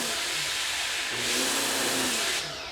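A WESTFORCE 3000psi electric pressure washer, fitted with a small-orifice Ryobi nozzle, runs with a loud steady hiss and motor whine that surges midway, then drops off as the motor trips.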